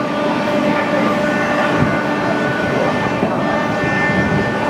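Amrit Bharat Express, the Sealdah–Benaras superfast, rolls through Bardhaman junction with a loud, steady broadband rumble of wheels and carriages that holds constant throughout, with no voices.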